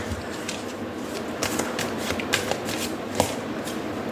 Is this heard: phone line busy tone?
no